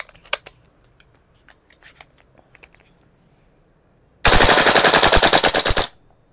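A VFC MK16 URGI gas blowback airsoft rifle with NPAS fires a loud, sustained full-auto burst of rapid, evenly spaced shots lasting about a second and a half, after a stretch of quiet handling clicks.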